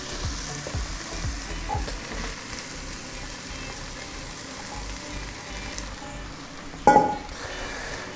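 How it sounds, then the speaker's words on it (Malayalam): A spatula stirs fried bread pieces into masala in a frying pan, soft sizzling and scraping running steadily, then a brief sharp clank of utensil on pan near the end. "ഈ മസാല നന്നായിട്ട് മിക്സാക്കി കൊടുക്കാം"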